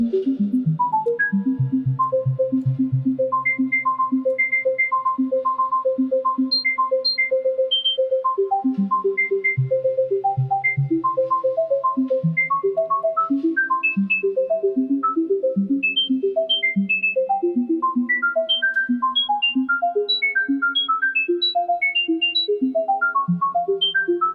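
A plucky modular synthesizer sequence plays a continuous stream of short bell-like notes in an exotic Indian scale, wandering up and down with soft echoes.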